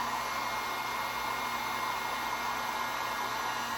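A hair dryer blows steadily to dry paint on a layered mesh-stenciled holiday craft, a close, constant, loud airy rush with no change and no talk.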